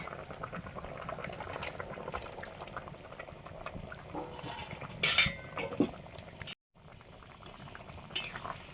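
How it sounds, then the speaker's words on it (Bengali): A curry broth of vegetables and boal fish bubbles quietly in a pot, a soft continuous simmer broken by a few light clinks of utensils against cookware. "ঝোল ফুটে গেছে, এবার মাছগুলো দিয়ে দিই।"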